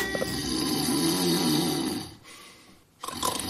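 A recorded snore, one long loud rasping inhalation that cuts off, a short pause, then the next snore beginning, close and alone.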